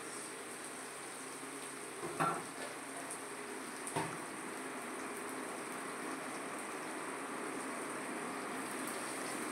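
Crushed ginger and green chili sizzle steadily in hot oil in a pan, a continuous hiss with a couple of brief knocks near the start and no talking.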